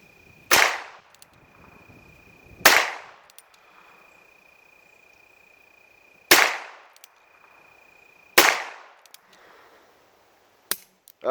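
A Ruger Wrangler .22LR pistol fires four sharp, loud cracks at uneven intervals of a couple of seconds, each with a short ringing tail, followed by faint clicks.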